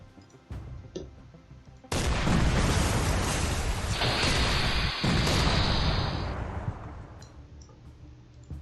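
Naval guns fire in Command: Modern Operations: after a few faint clicks, a loud, sustained roar of firing and blasts starts abruptly, holds for several seconds with a hissing layer, then slowly fades.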